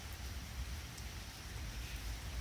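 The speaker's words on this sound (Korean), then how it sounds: "봄비가 대지를 흠뻑 적시고 있습니다." Spring rain falls steadily on the ground of a countryside house garden, a soft continuous hiss with low rumble, faint and even throughout with no voices.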